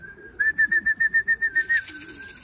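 Birds arriving outdoors, with a steady high whistle-like tone carrying a rapid pulsing series of calls or wingbeats and a brief brighter flutter near the end, close and clear with no talk.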